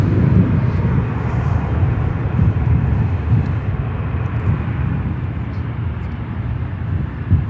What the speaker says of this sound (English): Western Global coming in from Anchorage, Alaska. 747-400.